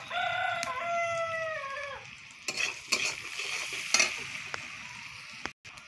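Onions being stirred and fried in a pan; soft sizzling with several sharp spatula scrapes and knocks, while a rooster crows clearly in the background near the start.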